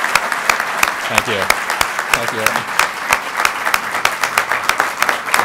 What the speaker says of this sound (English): I'm going to have to ask you to clap again